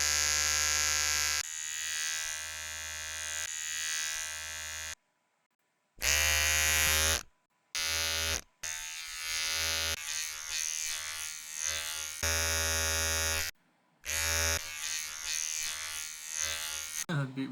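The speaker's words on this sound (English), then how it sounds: "I have like a recording of a shaver that I've got." An electric shaver buzzes loudly in several bursts, its steady harmonic drone cutting off abruptly into brief silences before starting again.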